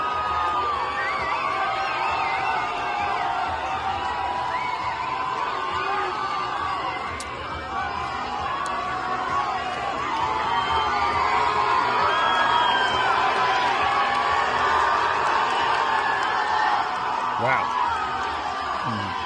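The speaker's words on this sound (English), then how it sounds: "Big crowd." A big outdoor crowd at a political rally cheers and whoops continuously in a dense, distant wash of voices, with a voice talking nearby over it.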